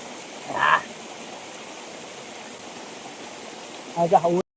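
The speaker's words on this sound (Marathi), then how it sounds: "वरून पाणी पडतं इथून इथून असं पडत येते खालती स्टेप बाय स्टेप पाणी पडतंय" A large hillside waterfall flowing down in steps during monsoon rain, a steady broadband rush of falling water throughout, close and constant, with someone talking briefly at the start and near the end.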